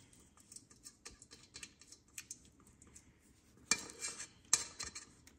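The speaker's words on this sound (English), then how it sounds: "yes, we're going to scrape it all out." A spoon scraping sweet potato casserole out into a baking dish, giving quiet repeated scrapes and taps against the dish, with two louder clinks near the end.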